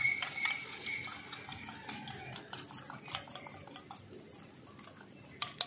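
A spoon stirs chili powder into water in a metal bowl while making Bengali bori jhal in a home kitchen, with light clinks and swishing liquid, soft and close, punctuated by a few sharper taps.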